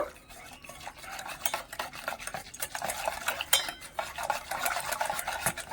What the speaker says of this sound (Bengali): এখানে খুব ভালো করে আমি জলের সাথে মিশিয়ে নিয়েছি